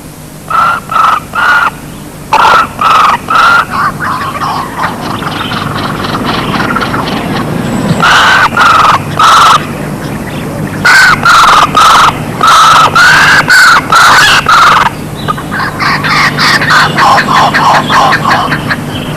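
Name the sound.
kookaburra chicks calling to demand food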